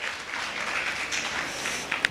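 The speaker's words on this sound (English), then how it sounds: "why don't you clap your hands just for this watershed event" A crowd at a community imbizo gathering claps steadily throughout, a dense sustained patter of many hands with no talk over it.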